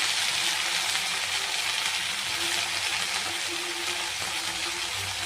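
Fenugreek greens tossed into garlic frying in a pan, giving a continuous even sizzle that stays close and loud for the whole stretch, with no voices.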